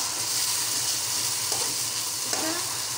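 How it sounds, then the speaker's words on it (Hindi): Chicken with ketchup sautés in a pan with a steady, close sizzle and frying hiss, with a couple of faint stirring scrapes partway through. "इसको 2 से 3 मिनट अच्छे तरीके से भून लेंगे"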